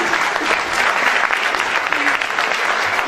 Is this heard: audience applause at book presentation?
yes